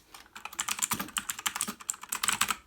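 Rapid typing on a VictSing TKL mechanical keyboard, a close, dense run of crisp keystroke clicks in uneven bursts, with no voices.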